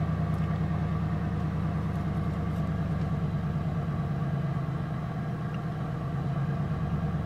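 Ford Crown Victoria idling with a slight stumble, a steady low engine rumble with a faint pulsing roughness, constant and fairly quiet, with no one speaking.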